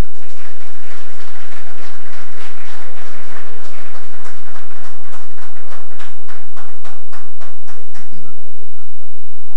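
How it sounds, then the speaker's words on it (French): An audience at a talk on Haitian youth claps steadily and loudly in a dense, even patter, then the applause stops abruptly near the end, leaving faint room noise. "de les applaudir, vraiment"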